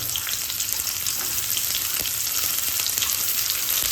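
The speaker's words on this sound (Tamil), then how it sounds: "இந்த வெங்காயத்தை வெட்டி வச்சுக்கிற வெங்காயத்தை போட்டு தாளிக்க போகிறோம்" Onions sizzling and frying in hot oil for a Sri Lankan mud crab curry, a loud, steady crackle with occasional sharper pops and stirring, no talking.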